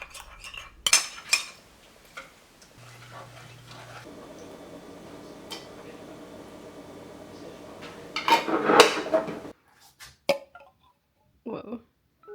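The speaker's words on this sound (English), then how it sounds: "I'm just gonna make the little cornstarch slurry in the cup that I already used" A spoon stirring cornstarch slurry in a previously used cup, giving light clinking and scraping taps against the cup with a low steady hum between, then a louder clatter of dishes near the end and a few faint knocks after.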